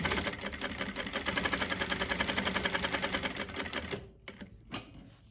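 A sewing machine runs steadily, stitching the waistband detail of a pair of jeans in a continuous close mechanical whir for about four seconds, then stops, leaving a few faint handling clicks.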